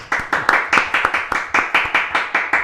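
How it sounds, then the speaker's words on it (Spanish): Rhythmic audience clapping welcoming a guest, sharp claps in a steady beat, fairly close with no talking. "vamos a saludar y recibir como se merece, con todos los aplausos"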